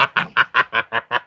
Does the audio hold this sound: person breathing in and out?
no